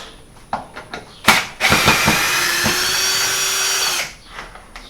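A cordless power drill whirs loudly for about three seconds as it backs a screw out of a garage light fixture, preceded by a few sharp clicks and knocks, close and alone without talk.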